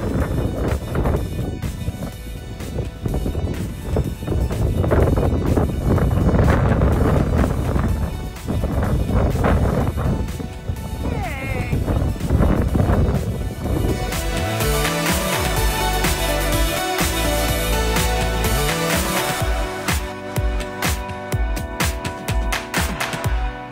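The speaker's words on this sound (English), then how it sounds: "Outside in this wind." Strong outdoor wind blows steadily across the microphone, a loud roaring buffet that runs through the whole clip with shifting gusts at a stable where horses are kept.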